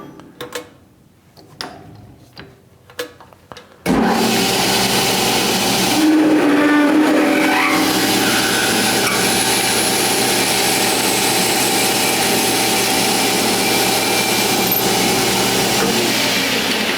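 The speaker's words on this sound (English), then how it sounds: "Lovely sound until the drill gets centered and cutting." A drill bit a little over half an inch bores into a metal toolpost-grinder spacer turning on a lathe, starting with a few light taps before a loud, steady grinding whir takes over and holds to the end.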